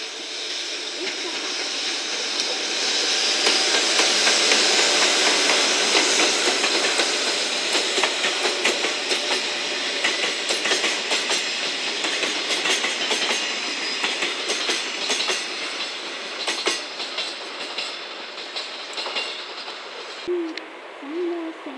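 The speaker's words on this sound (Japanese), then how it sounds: "普通山陽線西条白市方面白市行きが5秒で到着します" A local train on the Sanyo line pulls into a station, its rolling rumble and hiss loud and steady throughout, with rail clatter and a brief tonal hoot near the end.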